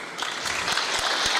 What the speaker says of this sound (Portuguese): E palmas pelo teu resultado também